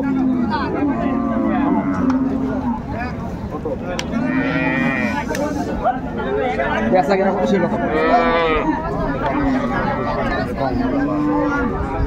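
Dairy cows and calves low repeatedly at Raniganj cattle haat in Dinajpur, deep moos rising over a steady crowd murmur while people haggle nearby.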